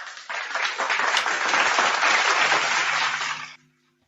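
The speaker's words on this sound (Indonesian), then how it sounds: "Tepuk tangan." Sustained audience applause at an evening debate gathering, a dense wash of clapping that rises quickly, holds steady for about three seconds, then cuts off abruptly into near silence.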